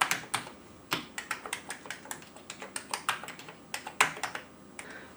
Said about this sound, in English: Brand new Amiga keyboard.